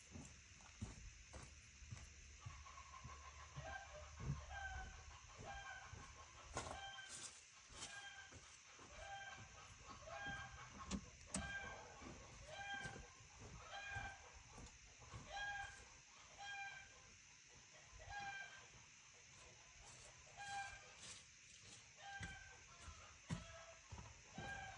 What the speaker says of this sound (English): Chickens are happy they're laying eggs.